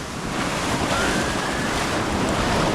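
Sea waves break and wash continuously against a rocky Konkan shore near Rajapur, Ratnagiri, a loud, steady broadband roar with wind buffeting the microphone and no voices.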